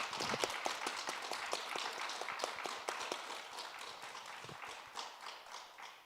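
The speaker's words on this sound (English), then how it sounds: "I ask for a round of applause." A smallish audience at a talk on AI data training and quantum computing gives a round of applause, with individual claps distinctly audible in a loose, uneven patter that thins out toward the end.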